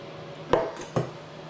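Rolled tortillas are set into an ovenproof baking dish, giving two short, close knocks of food against the dish about half a second apart, alone in a quiet kitchen.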